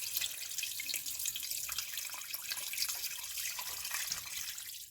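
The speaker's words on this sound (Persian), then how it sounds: "بعدم آب رو اضافه کنین." Water pours steadily into a cooking pot while halim is being made, giving a continuous splashing trickle close by in a quiet kitchen.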